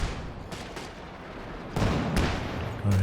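Panzer IV tank gunfire in Company of Heroes 2 comes as heavy, booming shots, a couple in close succession midway and another near the end, over a low rumbling battlefield background.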